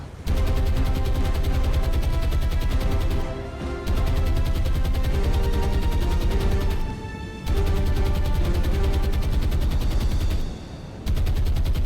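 Anti-aircraft guns on an escort ship in a War on the Sea naval battle pound out sustained, rapid, loud fire in long continuous bursts, broken by a few short pauses.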